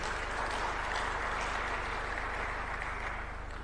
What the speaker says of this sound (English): Aida, round of applause, please.